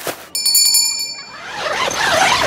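A bright bicycle-style bell rings in a quick trill of several strikes, clear and close, then fades into a noisy outdoor wash at a campsite with tent awnings.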